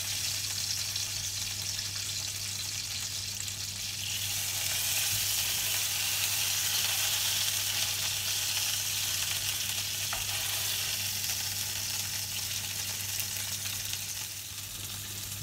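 A thick duck breast (magret) sears meat-side down in a pan, giving a steady, even sizzle and hiss that swells slightly midway and holds constant, with no talking.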